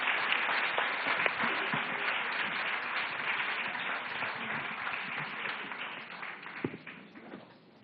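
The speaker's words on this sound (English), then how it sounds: "A big round of applause for all 3 of you." Sustained applause from a crowd, dense steady clapping that slowly fades toward the end, with no voices over it.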